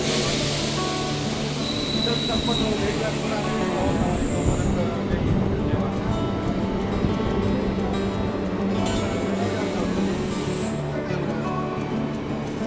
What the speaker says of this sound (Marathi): आता याच नंदुरबार उदना मेमू या ट्रेनने आता आपण चाललो आहे